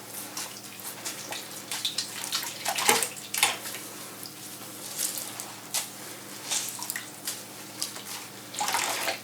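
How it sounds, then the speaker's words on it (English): Dyed yarn is squeezed by hand in a basin, giving wet squelches and uneven trickles and splashes of water running off in bursts. "And squeezing out the water."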